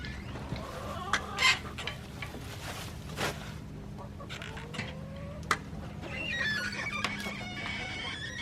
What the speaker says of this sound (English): Look at them chickens eating that coffee.